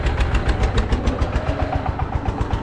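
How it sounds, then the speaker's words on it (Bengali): A motorized engine van in a quiet Sundarbans village, its small engine chugging in a fast, even pulsing rhythm at close range and fairly loud, with no talk. "এখন ইঞ্জিন ভ্যান নিয়ে যাচ্ছে।"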